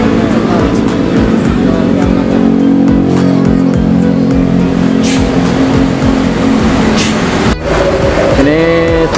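A PO Haryanto bus pulls into the Pasar Jimat bus terminal with a loud, close, sustained engine drone and rumble. Other traffic noise and talking sit behind it.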